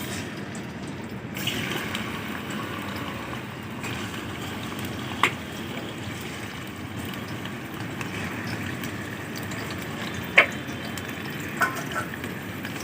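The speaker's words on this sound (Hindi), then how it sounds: "चिकन को अच्छी तरह फ्राई कर लेंगे जब तक कि इसका कलर तब्दील नहीं हो जाता।" Chicken pieces totalling 700 grams fry in a cup of hot oil in a karahi, giving a steady close hiss and crackle with occasional sharp pops, all fairly quiet.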